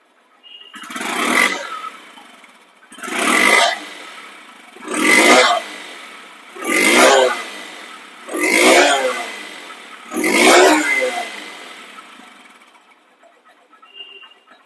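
A second-hand Honda Dream motorcycle engine runs nearby, rising in six evenly spaced revving bursts about two seconds apart, each fading back to a quiet idle between, with no talking.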